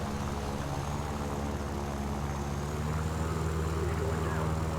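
A Yak-9P propeller fighter's piston engine drones steadily in War Thunder arcade flight, a continuous loud hum with a constant pitch throughout.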